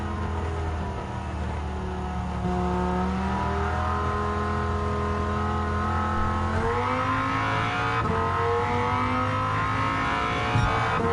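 A Dodge Viper GTS races in Gran Turismo 7 at an American Clubman Cup event, its engine droning loudly and steadily. It climbs in pitch through the gears, with a shift drop partway and a brief tire squeal near the end.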